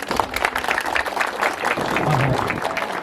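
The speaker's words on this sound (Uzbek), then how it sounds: "Qarsaklar bilan" A crowd at a school farewell evening applauds, giving a steady, moderately loud patter of many hands clapping for a few seconds with some murmuring voices underneath.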